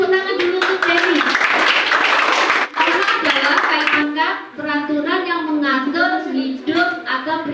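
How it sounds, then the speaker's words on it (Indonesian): Applause from a classroom of students during a civics (PPKn) lesson, a dense burst of many hands clapping through most of the stretch, with children's and a teacher's voices talking over and after it. "Tepuk tangan dulu untuk Denny"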